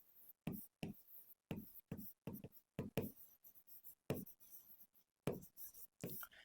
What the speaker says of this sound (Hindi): मैं कुछ प्लेटफॉर्म्स का नाम लिख दे रहा हूँ